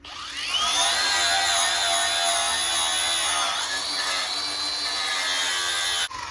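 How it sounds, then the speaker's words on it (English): An angle grinder spins up and grinds rust off an old spot planter's bar, a loud, steady high-pitched whine with rasping metal contact that holds for several seconds, dips slightly, and then cuts off at the end. "So we're gonna grind the rust off. I've got a grinder here."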